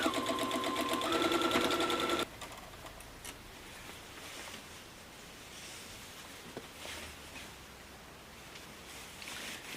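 A sewing machine stitches quilt rows together in a fast, loud, even whir for about two seconds, then stops, leaving quiet fabric rustling and handling sounds.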